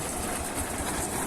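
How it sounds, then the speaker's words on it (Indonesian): A corn threshing machine runs in front of a house, a steady mechanical rumble and rattling whir that stays loud and continuous throughout, with no talk. "dengan mesin perontok jagung ya."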